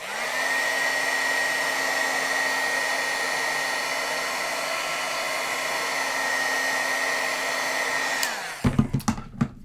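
Craft heat tool blowing hot air to set ink on white cardstock, a steady loud whooshing drone with a fixed whine held for about eight seconds before switching off, followed by a few light clicks and handling sounds.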